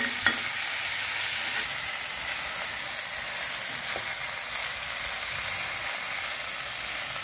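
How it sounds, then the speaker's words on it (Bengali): Continuous sizzling of food frying in a pan, with occasional scrapes and clinks of stirring, steady and close, no voices. "এটা একটু ভাজা ভাজা করি"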